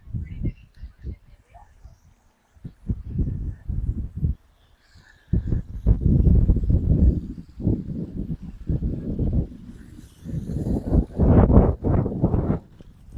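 Gusty outdoor wind buffets the microphone beside a pool waterfall under repair, in loud irregular bursts with short lulls between them.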